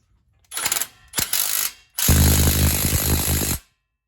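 A Milwaukee mid-torque 1/2 inch impact wrench fires in three loud bursts: two short ones, then a longer rattling hammer run of about a second and a half, with no voices.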